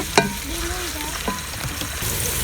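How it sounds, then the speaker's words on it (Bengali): Onions fry and sizzle in a pan while being stirred for chicken bhuna khichuri, a steady close sizzle broken by a few sharp scraping clinks of the spoon. "পেঁয়াজটা একটু নেড়ে চেড়ে হালকা বাদামি হওয়া পর্যন্ত অপেক্ষা করব"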